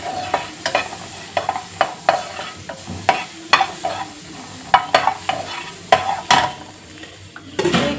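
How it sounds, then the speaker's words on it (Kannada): Green chillies dry roast in a pan, their moisture cooking off in a soft crackling sizzle, with repeated sharp clinks and scrapes of a spatula on the pan at an uneven rhythm. "ಈಗ ಇದೇ ಬಾಣಲಿಗೆ ಸ್ವಲ್ಪ ಹಸಿಮೆಣಸು ಸೇರಿಸ್ಕೊತೀನಿ."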